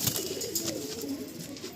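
Giribaj pigeons coo softly in a loft, a low murmuring coo repeated under a steady bed of ambient hiss and faint rustling.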